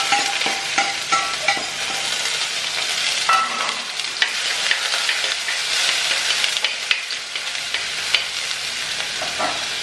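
Garlic frying in a pan for a curry, a loud continuous crackling sizzle with frequent sharp pops and spatters throughout, no talking.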